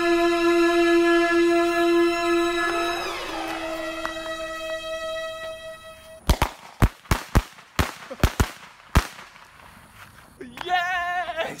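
Cheap fireworks going off: a long rising whistle with shifting tones, then a rapid series of sharp, loud bangs and crackles, ending in another warbling whistle.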